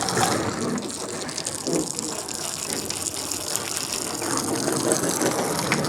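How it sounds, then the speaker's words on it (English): Steady rushing spray of water hitting the exterior of a van, continuous and fairly loud throughout with no pauses. "we'll give the outside a bit of a spray"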